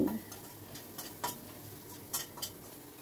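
Ingredients with asafoetida are frying in a pan and stirred with a utensil, producing faint scraping and a few sharp metallic clinks over a quiet background sizzle, with no talking.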